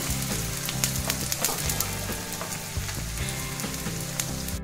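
Potato hash brown patties fry in oil with a continuous crackling sizzle and scattered sharper pops, close and moderately loud, with no talking.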